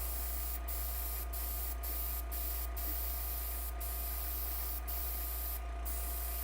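An airbrush sprays paint onto an HO scale model restaurant building in a steady, continuous hiss over a constant low hum, with a few brief breaks in the flow.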